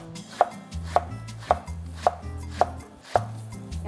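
Knife julienning cabbage on a cutting board, with six sharp, evenly spaced chops about half a second apart over soft background music. The cuts are close and crisp, and no one talks.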